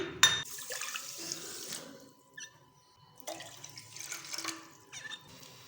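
Water running from a tap into a pan in a home kitchen, added to sugar to make syrup for gulab jamun; splashing comes in two bursts separated by a quiet gap, moderately loud and close.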